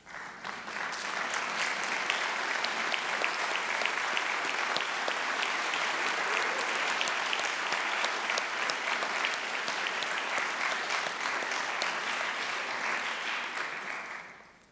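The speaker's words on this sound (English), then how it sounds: "we would like to give you a round of applause" Sustained applause from a large audience at a Yom HaShoah commemoration, steady and full for over ten seconds before tapering off at the end.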